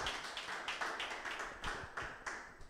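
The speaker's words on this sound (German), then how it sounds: "Du kannst Platz nehmen und dabei klatschen." A church congregation claps while sitting down during a service, a quiet, steady run of hand claps with a slightly uneven rhythm, heard alone without talk.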